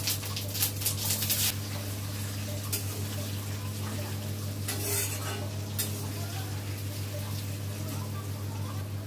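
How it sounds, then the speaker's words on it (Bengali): Potatoes go into hot oil with bay leaf and whole cumin, giving a continuous sizzle with occasional stirring clatter over a steady low hum. "গোটা জিরে দিয়ে এবার আলুগুলো দিয়ে দিচ্ছি।"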